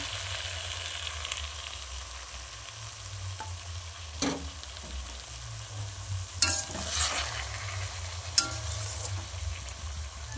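Catla fish head curry with pumpkin, potato and papaya sizzles steadily in a pan, with a few clinks and scrapes as it is stirred, and no voices.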